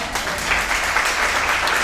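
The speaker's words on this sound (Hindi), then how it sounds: "अब मुझे नहीं पता कि आपने ताली क्यों बजाई" An audience claps steadily throughout, a dense, even wash of many hands close by with no voices over it.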